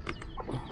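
Wild junglefowl (labuyo) in a backyard gives a few quick, soft clucks, faint and brief, with no talking.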